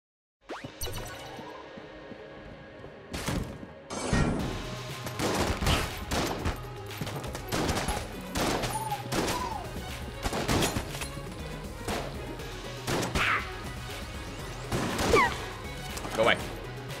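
A quad laser gun firing in the video game Enter the Gungeon, with irregular bursts of sharp shots and impacts over roughly sixteen seconds while a person talks throughout.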